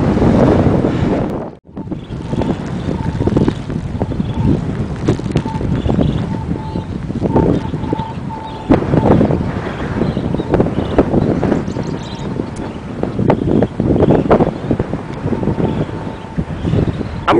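Strong wind buffets the microphone during a coast-to-coast bike ride, a loud continuous rumble that gusts unevenly throughout, with a brief dropout near the start.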